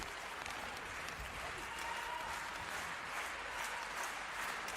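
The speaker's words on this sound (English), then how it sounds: "Crowd starting to clap here" Spectators at an ice hockey match between Frölunda Gothenburg and BK Mladá Boleslav clap steadily across the arena, a dense patter of applause that stays even throughout while a commentator talks over it.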